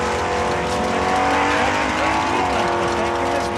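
A drag race car launches hard at Saskatchewan International Raceway with a loud, continuous, close engine roar that fills the whole moment.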